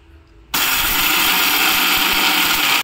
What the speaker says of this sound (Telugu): అంతలోపు మనం ఈ మసాలా మిక్సీ చేసుకుందాము.